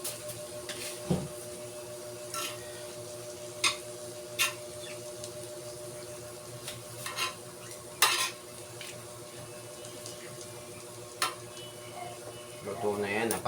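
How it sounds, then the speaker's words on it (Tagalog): A small spoon scrapes and clinks in a pan of sizzling sisig, with scattered metallic taps over a steady frying hiss and occasional voices nearby. "Kunin natin kutsara maliit para mahalo."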